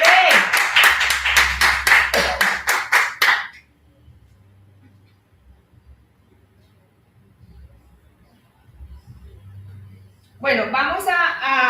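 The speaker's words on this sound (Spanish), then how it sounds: "¿Cuántos le dan un fuerte aplauso a Cristo?" A church congregation claps in a quick, even rhythm, about a dozen sharp, close claps over a few seconds. The claps stop abruptly into near-silence, and a voice then begins talking.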